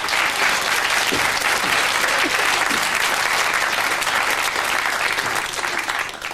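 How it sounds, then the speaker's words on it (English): A studio audience at a children's puppet show claps loudly and continuously, the dense applause easing slightly toward the end. "We'll give him a round of applause then."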